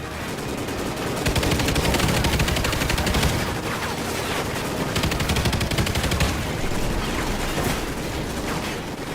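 Rapid automatic gunfire from Call of Duty Ghosts pours out in a loud, dense, continuous burst of shots, sustained for several seconds with little pause.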